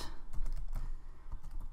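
Fast, irregular clicking of computer keys while someone writes code for a Minecraft ModLoader block-generation mod, steady close-up taps with no voice.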